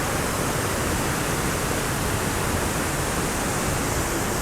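Bahubali waterfall at Bhandardara, Maharashtra, roars close by, a loud, dense, unbroken rush of falling water with no pauses or voices.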